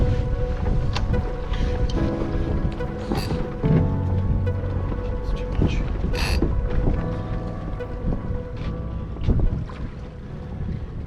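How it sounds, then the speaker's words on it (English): Wind in a sailboat's rigging while the boat sails in about a 12 knot breeze among tropical islands: steady, loud gusty wind noise buffeting the microphone, with water rushing past the hull and occasional creaks. "I think we have about a 12 knot breeze here"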